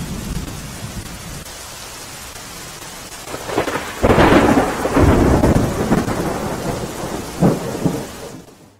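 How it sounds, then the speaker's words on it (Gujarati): Heavy monsoon rain pours down in Gujarat, a loud, dense hiss broken partway through by a deep rolling rumble of nearby thunder that swells and slowly fades, with no one talking. "જલાલપોર, વાંસદા સહિતના તાલુકાઓમાં પણ વરસાદ થઈ રહ્યો છે"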